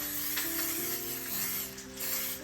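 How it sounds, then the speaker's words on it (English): A soft, steady hiss of cooking spray onto a baking dish, sustained for a couple of seconds with slight pulses, close by and fairly quiet. "I have some pan spray."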